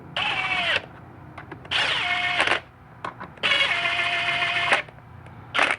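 A power drill runs down bolts during reassembly of a 4L60E transmission, in three loud whirring bursts with pitch sagging as each bolt seats, separated by quiet gaps with light clicks and a short fourth burst at the end.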